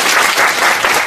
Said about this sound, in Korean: 박수로 그럼 환영.